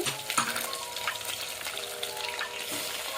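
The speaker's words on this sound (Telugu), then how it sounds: "ఇవన్నీ వేసుకుని ఒకసారి దీన్ని ఫ్రై చేసుకుందాం." Potato, carrot, chillies, onion and tomato fry for moong dal khichdi, giving a steady close sizzle with soft stirring scrapes and faint clinks throughout.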